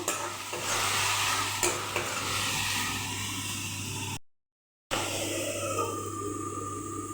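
Beans and potatoes sizzle in hot oil while being stir-fried with salt and turmeric, with a steady frying hiss, a few scraping stirs, and a brief gap before the sizzling resumes.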